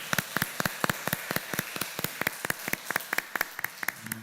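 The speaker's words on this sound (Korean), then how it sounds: "축하해 주시는 박수로 뜨거운 박수 부탁드립니다" Church congregation applauding to celebrate a wedding announcement, a sharp rhythmic burst of hand claps, fairly even and close, heard alone without talk.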